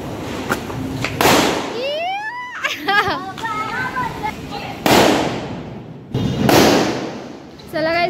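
Firecracker bombs burst during Diwali celebrations outdoors, several loud sharp blasts spaced a few seconds apart, with whistling crackers and children's voices and chatter around them.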